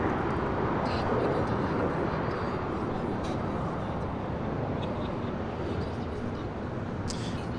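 A Delta Boeing 767-300ER airliner passes at LAX, a steady broad roar of jet engines filling the whole stretch, heard from a distance amid constant airport noise.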